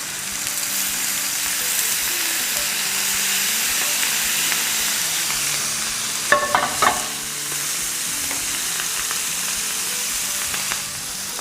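Prawns sizzle loudly and steadily in a hot pan, a continuous close hiss with a brief cluster of sharper spatters and clatters partway through.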